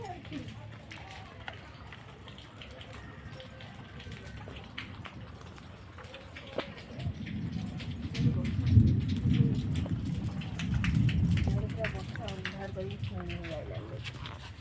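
Heavy rain pours down outdoors with a constant hiss of drops on surfaces, swelling louder midway, while people talk nearby.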